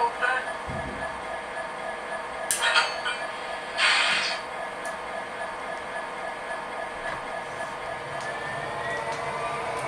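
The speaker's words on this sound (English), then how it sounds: "I'm going to activate the rear coupler on the remote and then I'm going to hook it up." An MTH Premier O-scale BNSF SD70ACE model locomotive couples to a freight train, giving a few sharp clanks and clinks over a steady idling motor hum, with a brief loud burst of hiss and clatter midway.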